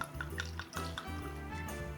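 Vodka pours from a bottle while making homemade limoncello, a short gurgling glug of liquid with uneven bubbling pulses, close and quiet.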